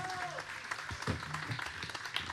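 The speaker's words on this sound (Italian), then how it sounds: "Quindi ancora un grandissimo applauso al nostro grande Paolo Pierpaoli" Audience applause at a live Italian stage event, a steady bed of clapping from a crowd, moderately loud and continuous with no voices over it.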